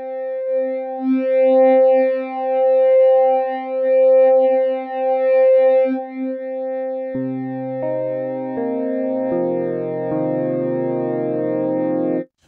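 Logic Pro RetroSynth playing a custom wavetable built from vocal slices on oscillator one: a sustained wobbling tone for about seven seconds, then brighter stacked synth chords stepping in with effects, loud and alone.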